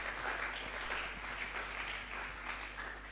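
A church congregation applauding for the Lord, steady sustained clapping from many hands throughout, moderately distant and even in level.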